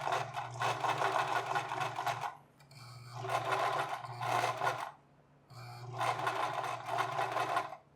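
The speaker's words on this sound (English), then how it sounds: "And then I'm going to run two seams, one all the way on the outside and then another one on the inside." A sewing machine runs double seams around a fabric cap in three steady bursts of whirring stitching, separated by brief pauses, close and fairly quiet with no voices.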